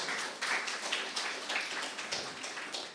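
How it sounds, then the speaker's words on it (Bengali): Audience applause at a literary award ceremony, with many hands clapping in a steady, moderately quiet patter that fills the room, heard from a distance with no voices over it. "আরো জোরে হাততালি চাই"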